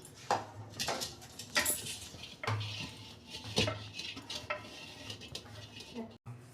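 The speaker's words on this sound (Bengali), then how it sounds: "হাঁড়ির ভেতরে আমি ভালো করে তেল মাখতে নিচ্ছি" Hands rubbing oil around the inside of a clay cooking pot for handi chicken, giving soft scrapes and scattered clinks of earthenware, with short louder knocks spaced through the passage and a quiet stretch near the end.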